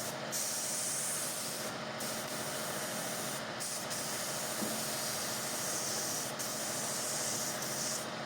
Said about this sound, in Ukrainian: Фарбую водним лаком з додаванням зеленого барвника.